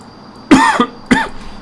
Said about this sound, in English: I really am sorry for this cough.